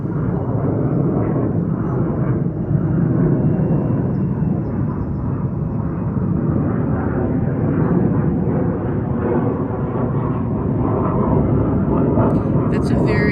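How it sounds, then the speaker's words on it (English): A loud airplane roars overhead in a broad, sustained rumble that masks a person talking underneath. "That's a very loud airplane."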